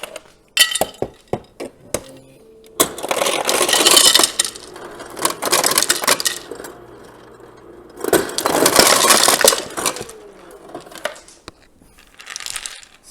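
Ice cubes for home-brew kombucha clink and rattle against glass, a few sharp taps followed by longer bursts of tumbling, crunching ice, loud and close with quiet pauses between.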